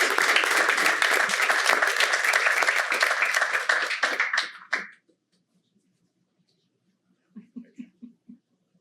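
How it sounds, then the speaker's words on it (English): An audience at a Fort Mill town council meeting claps steadily for about five seconds before the applause fades out, followed by a few soft, scattered sounds. "Let's all give her a wonderful round of applause."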